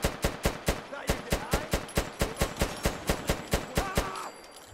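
Automatic gunfire in the video game Fallout 4: a rapid, evenly spaced burst of about eighteen sharp shots over four seconds, loud and close, with a brief electronic warble near the end.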